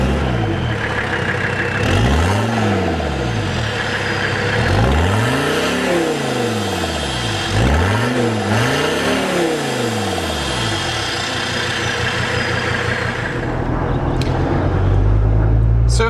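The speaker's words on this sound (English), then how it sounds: "You can hear the turbo. It sounds like a diesel truck going down the road" An old Mercedes-Benz 300TD wagon's turbo diesel accelerates through several gears, its engine note rising and falling in repeated sweeps with a turbo whine, heard from inside as the car drives down the road.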